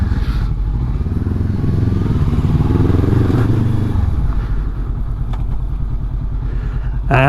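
A Honda CB500X with a GRmoto exhaust runs close by, its engine giving a loud, steady rumbling drone that holds for several seconds before easing slightly, with a brief clatter near the end.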